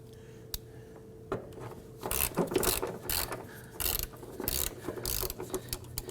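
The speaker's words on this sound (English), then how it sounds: "we're using hand ratchets for everything" Hand ratchet clicking as fuel tank strap bolts come loose on a 2005-2009 Subaru Legacy 2.5L H4, several bursts of rapid pawl ratcheting after a few isolated clicks, close and alone.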